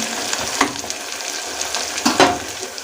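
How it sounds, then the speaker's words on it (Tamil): Onions, mint and coriander sautéing in a pan for beef biryani, a steady close sizzle and crackle with a couple of brief stirring scrapes, no voices. "சேர்த்துட்டு இதையுமே நல்லா வதக்கி விட்டுக்கலாம்."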